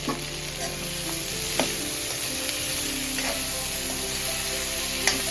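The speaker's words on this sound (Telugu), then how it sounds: "పచ్చిమిర్చి కూడా ఆయిల్లో మంచిగా ఫ్రై కావాలి." Green chilies frying in hot oil with onion paste for gongura pachadi give a steady, close hiss and sizzle, with a few sharp pops and spatters scattered through.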